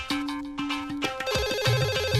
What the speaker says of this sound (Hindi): टेलीफोन की घंटी बज रही है सर।